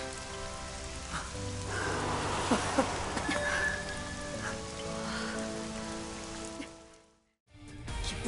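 Rain pours steadily in an animated Korean series, a dense, even patter with sustained tones underneath, dropping to near silence for a moment just before the end.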